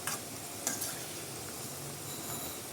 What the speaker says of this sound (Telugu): ఈ విధంగా గోల్డెన్ బ్రౌన్ కలర్ వచ్చే వరకు ఫ్రై చేసుకోవాలన్నమాట